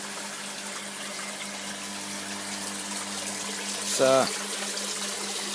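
Water moving through an aquaponics floating raft system fed by a pump, a steady hum with a low flowing wash, a short louder gush near the end and a brief voice.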